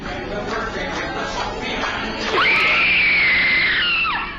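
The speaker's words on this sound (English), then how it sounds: "What you just heard was supposedly the final screams of a Disneyland employee" A loud, sustained scream rings out over the hum of the Disneyland America Sings animatronic show, rising sharply, holding for over a second and then falling away at the end.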